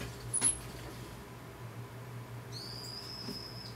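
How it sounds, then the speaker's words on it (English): A thin, high bird note sounds briefly near the start, then a clear sustained whistle-like call holds for about a second against quiet background hiss. "Now a bird is joining me."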